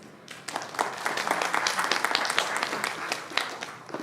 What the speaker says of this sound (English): Let us warmly welcome our expert for this engaging conversation with a round of applause